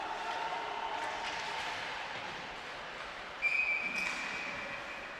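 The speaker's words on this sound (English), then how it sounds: "Whistles blow." A referee's whistle gives one short, shrill blast over steady arena crowd noise during a men's Division 2 round-robin ice hockey game between Brazil and Mexico.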